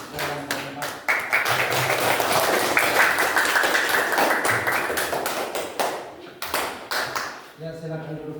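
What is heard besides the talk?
applause for group 4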